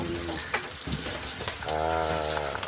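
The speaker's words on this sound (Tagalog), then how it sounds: "Halo muna tayo, haluin na muna natin" Sautéed mung beans being stirred in a hot pan give a steady sizzle, with a few scraping stirs and a faint voice briefly humming near the end.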